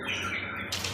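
A myna bird gives a short, harsh call lasting about a second, close and fairly loud, with no voices.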